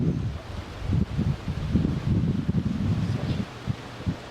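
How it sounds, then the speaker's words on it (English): Outdoor breeze buffeting the microphone, with a steady low rumble and gusty rustling that rises and falls throughout, with no voice heard. "So it's a little breezy."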